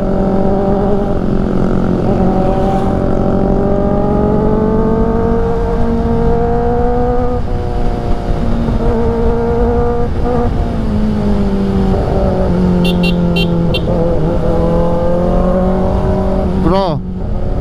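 Road traffic on a mountain road, with the steady, loud rumble and engine drone of trucks and other vehicles passing close by, going on continuously, with a brief horn-like tone near the end.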